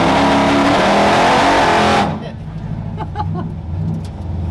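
A 392 Hemi-swapped 1966 Ford with a built 46RE transmission makes a trans brake launch: a loud, sustained engine roar for about two seconds that cuts off abruptly, leaving a lower idle rumble with faint voices afterward.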